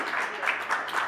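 Audience applause breaking out at a live music talk, a steady wash of many hands clapping close by, sustained for about a second without speech.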